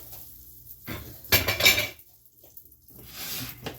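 Metal frying pan set back down on a stovetop while ground beef and eggs are cooked, giving a couple of clanking, scraping knocks in the middle, close and fairly loud, with quiet kitchen background around them.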